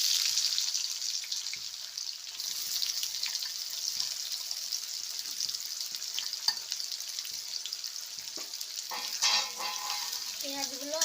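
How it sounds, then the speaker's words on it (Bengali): Sliced onions fry in hot oil for a chicken curry, giving a steady, moderately soft sizzle with small crackles and occasional stirring clinks throughout. "এবার এই তেলে আমি পেঁয়াজগুলো ভেজে নেব।"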